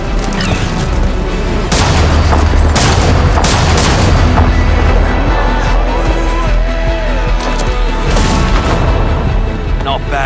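Heavy gunfire and booming blasts from an Apex Legends cinematic trailer, loud repeated shots and explosions over a dense rumbling action mix with occasional voices.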